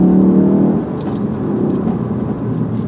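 A Ford Focus RS engine pulls hard from close range, a loud sustained roar that dips briefly, then keeps droning steadily with no talk over it.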